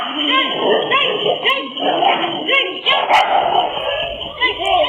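Street dogs barking and yipping in a Kodaikanal street incident where a construction worker was chased and bitten, recorded on CCTV; repeated barks and whimpers sound throughout amid a voice talking over them.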